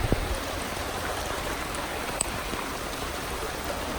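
Heavy rain pours down steadily around a 2011 Ford Fusion being rebuilt, a dense constant hiss with no talking.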